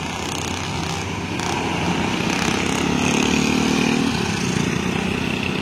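An MPM Velago bus on a road in Sumatra rumbles past with a loud, broad engine roar that swells and holds in the middle before easing off slightly, with steady traffic noise behind it.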